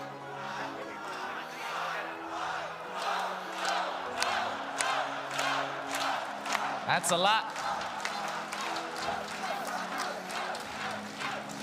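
An esports arena crowd roars and cheers at the Dota 2 grand final, a dense, continuous wash of voices with sharp shouts and claps. A presenter speaks over the noise.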